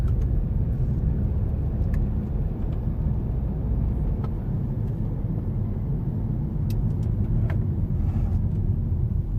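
A 2016 BMW X3 xDrive SUV engine idles smoothly and quietly, a low steady rumble with no voices over it.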